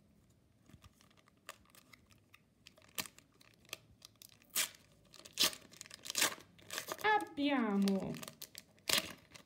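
Adrenalyn XL 2020-2021 football card packets being handled and torn open: scattered crinkles and sharp tearing bursts build toward a longer rip, close up, with a brief spoken word early on.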